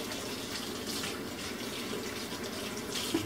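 Tap water runs steadily into a pot for a rinse while making syrup from bark, a continuous close splashing gush with no talk.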